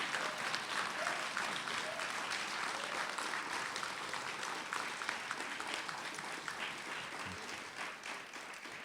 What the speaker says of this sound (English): I'd like to ask you guys to stand for one more round of applause